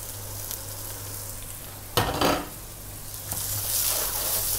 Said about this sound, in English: the oil's heating up nicely, so we're going to add in our peppers and our spring onions.